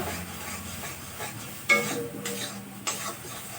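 Food sizzles and hisses while frying in a wok, with stirring scrapes and sharp clatters of a utensil against the pan. The sound is close and continuous, with no talking.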